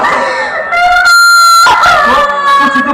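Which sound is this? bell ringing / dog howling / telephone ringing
dog howling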